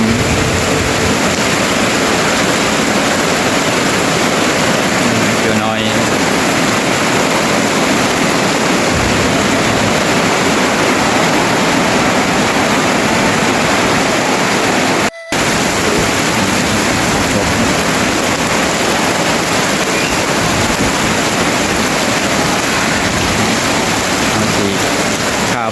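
Loud, dense rain pours down steadily in a thunderstorm in a Laos hill village, with a constant roaring hiss and wind mixed in; one brief dropout interrupts the continuous downpour.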